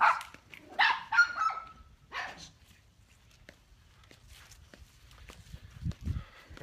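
Dogs give a few sharp barks close by in the opening seconds, followed by quieter rustling and shuffling sounds with low background noise.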